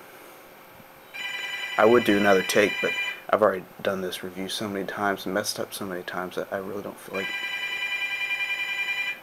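An electronic telephone ring carries on in the background, first alone, then softly under someone talking, and then alone again after he stops.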